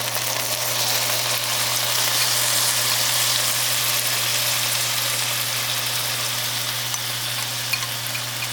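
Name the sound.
tofu sizzling in a hot pan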